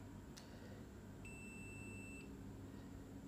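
A single steady, high-pitched multimeter continuity beep lasts about a second, faint over a low background hum, as a shorted diode in a switching power supply is tested.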